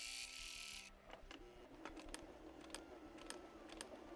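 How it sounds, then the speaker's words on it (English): A sewing machine stitches quilt binding, giving a faint, steady mechanical ticking and clatter of the needle at close range, following a brief whir. "now I am going to sew just to that nick, and I'm going to land my needle right on the dot"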